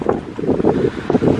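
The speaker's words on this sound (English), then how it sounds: "God, it's windy." Strong wind during a severe thunderstorm roars in pulsing gusts against the microphone, loud and close for a brief moment.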